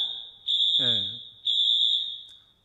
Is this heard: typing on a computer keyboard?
no